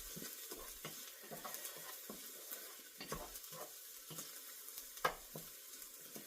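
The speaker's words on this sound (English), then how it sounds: "as soon as I get the garlic a little bit sauteed here, we will start adding the other stuff" Garlic sautés in a very hot pan, with a soft continuous sizzle broken by repeated scraping and stirring taps, close and fairly quiet, with no talk.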